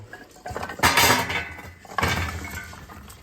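Carrots being stirred and tossed in a bowl for an air fryer, producing two bursts of clattering, clinking scrapes against the dish, loud and close with no voices.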